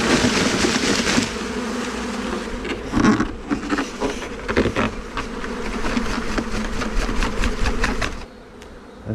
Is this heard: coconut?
no